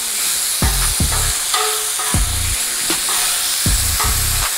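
Steak searing on a 500-degree Blackstone griddle top, a constant hiss of sizzling with a regular series of sharp spatula scrapes and taps, close and loud.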